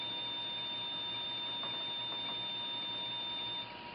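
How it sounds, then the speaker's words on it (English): A TEM/FIB micromanipulator alarm sounds as the gripper separates from the tip, a steady high electronic beep tone held for several seconds over faint lab hum before cutting off. "and the alarm will go off."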